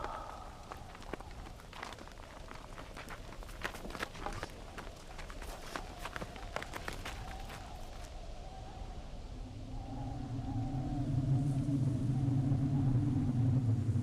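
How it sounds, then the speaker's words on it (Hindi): Storm in a desert wilderness setting, with a deep rumbling roar of wind that swells to a loud sustained surge over the final seconds, following earlier clattering, hoof-like thumps. "तूफान है, हमें कहीं पनाह लेनी चाहिए।"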